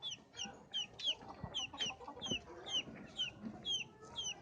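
Rooster and hens of a good breed clucking in a farmyard, repeated bright calls every half second or so over a steady low background, close and fairly loud with no talking.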